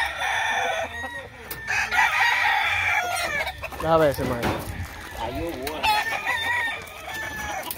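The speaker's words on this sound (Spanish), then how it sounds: "Miren este gallo cenizo" An ash-grey gamecock crows amid several roosters and hens clucking at a breeding yard, the calls repeating and overlapping at close range while someone talks over them.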